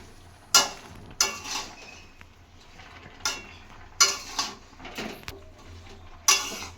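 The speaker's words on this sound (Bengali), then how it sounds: "এবারে নাড়াচাড়া করে ঢাকা দিয়ে দেবো।" Vegetables for a mixed Bengali pui shak chorchori stirred in a pot in a home kitchen, with several sharp clanks of utensil against metal scattered through the clip and soft scraping in between, no talk.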